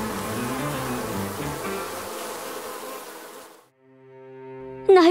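Loud, dense droning buzz that cuts off abruptly, followed by a thinner tonal hum that swells back up.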